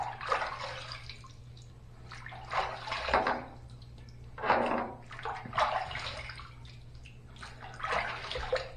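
Water runs and splashes in uneven bursts while someone rinses their head after a shave, a close, soft sloshing over a faint steady hum.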